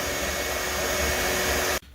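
Shop vacuum cleaning rusty metal on a 1966 Pontiac Catalina Wagon after wire brushing, a loud steady close-up roar that cuts off abruptly near the end.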